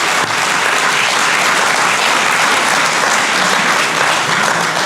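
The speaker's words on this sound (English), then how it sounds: "So a round of applause for softball." Loud, sustained applause fills a Maine high school's spring athletics awards ceremony as the crowd claps for the softball team, a dense, even roar of many hands with no pause or talk.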